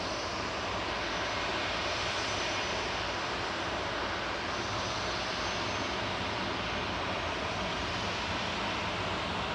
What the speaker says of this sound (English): EasyJet heading over to Naples, flight 2125. GEZWL operating this, an A320 Classic, an 11-year-old aircraft.